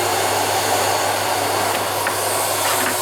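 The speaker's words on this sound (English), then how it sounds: "I'll switch my hoover on, or dust extractor rather." A dust extractor runs steadily during pinball playfield decal work, a loud constant broadband whoosh with a low hum underneath and no pauses.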